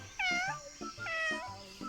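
A cartoon kitten stuck in a tree meows repeatedly, about four short high-pitched mews in quick succession, close and clear over a quiet background.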